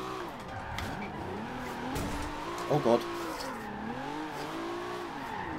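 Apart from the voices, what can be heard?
Nissan 300ZX drifting, tire squeal, in video game Forza Horizon 2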